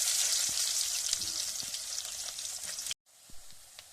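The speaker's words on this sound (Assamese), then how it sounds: "এতিয়া প্ৰথমতে পিঁয়াজ দিম। তেল গৰম হৈ গ'ল" Onions sizzle steadily in hot oil for an Assamese pork curry, a loud continuous frying hiss that cuts out abruptly near the end and returns more softly.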